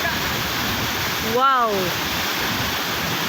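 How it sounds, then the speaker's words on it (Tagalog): Tuasan Falls on Camiguin island pours with a steady, loud, broad roar of rushing water that fills the whole stretch, while one voice briefly exclaims over it. "Naa ako karon sa Tuwasan Falls."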